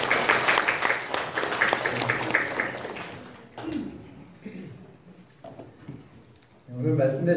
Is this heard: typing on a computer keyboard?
no